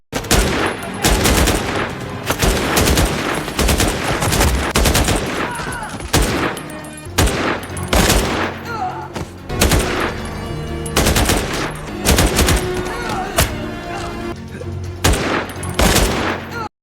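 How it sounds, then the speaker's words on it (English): Gunfire in a movie shootout: dense, loud, sustained bursts of automatic fire with rapid overlapping shots filling the scene almost continuously, close and intense. "He drives in, and a shootout breaks out with Nero finding a way to reach Chavez"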